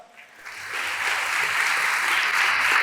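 A church congregation at a Hindi-Urdu sermon breaks into applause, starting faintly and swelling to steady, moderately loud clapping from the crowd.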